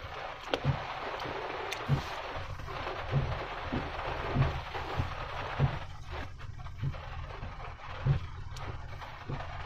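Heavy rain storm pouring down across farm fields on a trip home from the garden, a steady broadband wash with low rhythmic thumps recurring about every second and a half, fairly faint overall.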